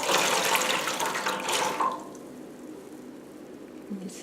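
Sage-dyed fabric is lowered into a basin of soapy water, giving a running, splashing wash of water for about two seconds before it settles into quiet drips and small sloshes, with no voices.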